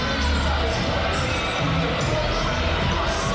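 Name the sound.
loud cheering volleyball crowd in a gym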